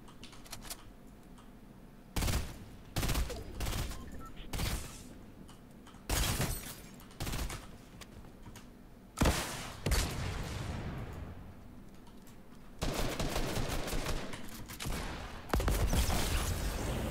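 Fortnite gunfire crackles in sharp, loud bursts, some single shots and some rapid volleys, separated by quieter gaps, with no voices heard.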